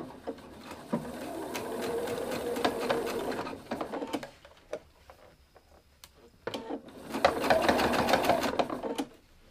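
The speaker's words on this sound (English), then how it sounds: "we put it underneath the sewing machine, and we're going to start sewing from right there" A sewing machine stitches binding onto a quilt in two quiet, steady runs of rapid needle chatter with a short lull between them.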